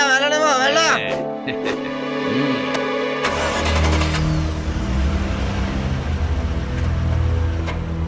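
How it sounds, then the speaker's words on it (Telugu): A garbage truck drives past in an animated series set in the Himalayas. Music and voices come first, then a loud, steady engine rumble with a rising whine takes over for the rest of the clip. "ఈ గార్బేజ్ ట్రక్ ఇటువైపుగా ఎందుకు వెళ్తోంది?"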